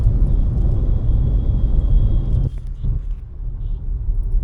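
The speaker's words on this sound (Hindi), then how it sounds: "अब क्या ट्रैफिक की भीड़ भाड़ में से गाड़ी निकालते हुए घर जाएंगे" Car making its way through dense Mumbai traffic on the drive home from Mahabaleshwar: a steady low road rumble and engine drone inside the cabin, dipping briefly near the middle and then carrying on.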